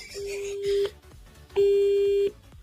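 Two electronic telephone tones, a shorter beep and then a longer one, with faint background noise between them.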